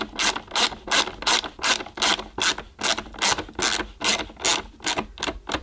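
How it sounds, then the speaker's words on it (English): A screwdriver tightens both screws on the handle of a Karcher Ranger by Sebo upright vacuum cleaner, giving about a dozen evenly spaced, close ratcheting clicks in a steady rhythm, with no talking. "And then we need to take the screwdriver again, tighten up both screws."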